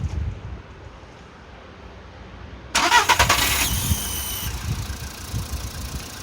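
A Volkswagen Polo sedan engine cranks and catches after a quiet stretch, letting out a sharp high-pitched whistle for about two seconds before settling into a steady idle close by.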